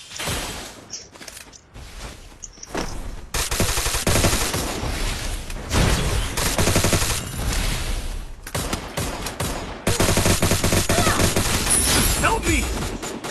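Battle in an online shooting video game, with dense bursts of rapid gunfire and loud shots in clusters separated by brief quieter gaps, close and harsh, with excited players talking over the shooting.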